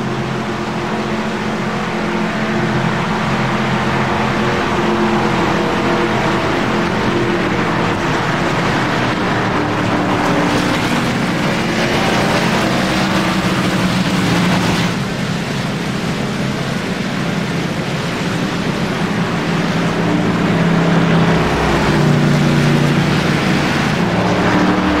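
A NASCAR race car engine in the iRacing video game drones steadily as the car drives down pit road, a loud continuous hum with slight shifts in pitch and no talk.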